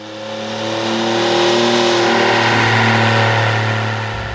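A 2015-20 Ford F-150 pickup with the 3.5L EcoBoost engine and a Flowmaster Outlaw cat-back exhaust revs up loud and close, swelling to a sustained high-rpm roar before easing back down.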